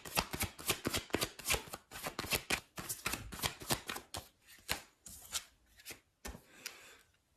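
Tarot cards being shuffled and drawn close up, making a quick series of papery riffles and slaps that come in uneven bursts before thinning out to occasional soft snaps.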